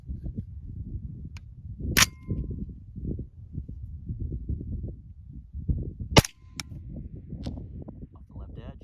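Two sharp rifle cracks through a Griffin Armament MGL suppressor, each followed by a faint ring of a steel target hit, spaced several seconds apart over steady talking.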